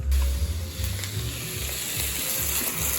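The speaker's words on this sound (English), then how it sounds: "The leaves only need to saute 45 seconds, less than a minute." Leaves sauté with chilies in a hot pan, giving a loud, steady sizzle with a few stirring scrapes and knocks, and no voices.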